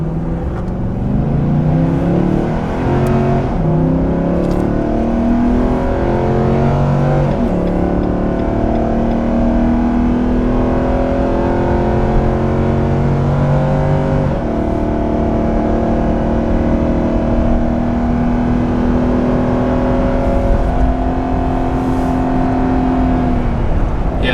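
A 2021 Nissan Titan XD with a gas V8 and 9-speed transmission, towing a trailer and accelerating up a 6% grade: a loud, steady engine drone that climbs in pitch, drops at gear shifts and climbs again, with no talk.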